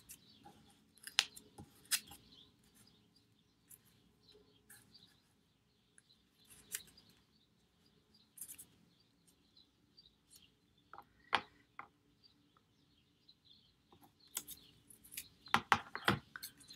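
Scissors cutting paper strips for a city collage: sporadic close snips and paper rustles scattered irregularly, quiet between, with a denser flurry of cuts near the end.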